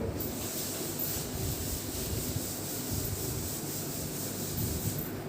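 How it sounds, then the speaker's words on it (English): A classroom board is rubbed clean during a fourth-grade English grammar lesson, producing a steady, continuous scrubbing hiss that runs without a break at moderate level and close by, with no talking. "so let me rub the board"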